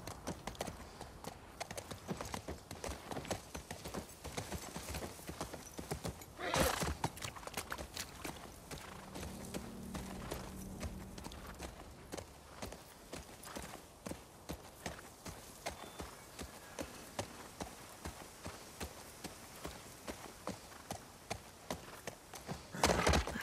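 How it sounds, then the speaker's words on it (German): Horse hooves clip-clop steadily as a rider travels on horseback in the video game The Last of Us Part II. The hoofbeats form a continuous walking rhythm over an ambient outdoor backdrop, with a few sharper thuds near the start and end. "Wir reiten herum und halten Ausschau."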